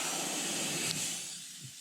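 An airbrush run from a compressor sprays midnight purple paint onto a topwater fishing lure, making a close, steady breathy hiss that briefly spikes and then eases off slightly toward the end.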